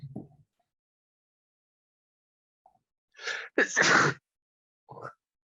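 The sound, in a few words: sneeze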